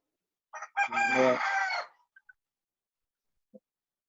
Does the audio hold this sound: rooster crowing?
yes